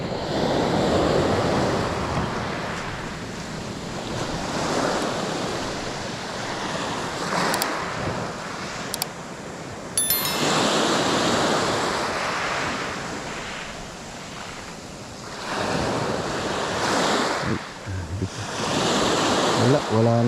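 Calm sea waves washing onto a shore in Batangas during a camping and fishing trip, heard close as steady broad surf that swells and recedes in slow surges, with some wind buffeting the microphone.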